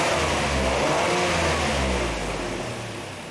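A Lincoln MKT with low fuel pressure and a lean condition on both banks runs steadily at close range, a continuous loud engine drone that eases slightly toward the end, with no talking.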